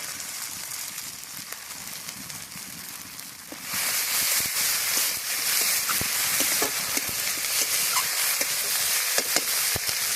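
Ginger paste goes into a hot pan of oil while cooking a duck egg curry, and a loud, steady sizzle and frying hiss swells suddenly partway through, with occasional stirring taps.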